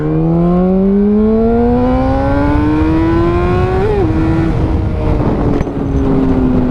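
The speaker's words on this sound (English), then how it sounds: "that was only 3rd gear, and I was going pretty quick in 3rd gear there" A Honda CBR 600RR motorcycle accelerates hard in third gear, its engine note climbing steadily in a loud, close whine, dipping briefly at a shift or throttle change, then continuing with rushing wind noise.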